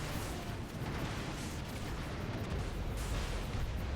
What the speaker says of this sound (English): Taking fire in enemy territory.